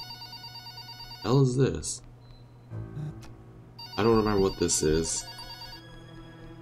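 A hospital ward phone rings in the video game Chromatose, electronic trilling bursts repeating at a moderate level while someone talks over them between rings.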